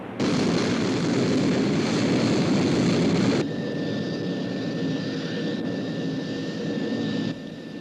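Steady jet aircraft roar from a science-fiction TV series, loud and broadband, dropping to a quieter sustained drone with a faint high whine partway through, no talking.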